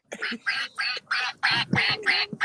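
A duck quacks loudly and close by in a quick series of about eight evenly spaced, nasal quacks, standing alone with no talk over them.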